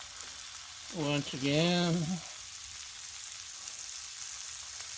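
Halibut fillet sizzling on a Blackstone griddle just after flipping, a steady hissing fry that carries on behind a brief spoken remark near the start and continues alone afterward.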